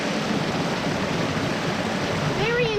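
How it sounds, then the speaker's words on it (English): A waterfall pours in a steady, dense rush of falling water that fills the whole clip at even strength, with a brief voice faintly audible near the end. "Waterfall number 2."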